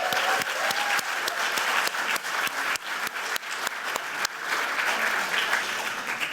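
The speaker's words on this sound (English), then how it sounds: "Let's give them a round of applause" Audience applause at an alumni award ceremony honoring reunion classes, a steady roomful of clapping with a few sharper individual claps standing out, sustained throughout.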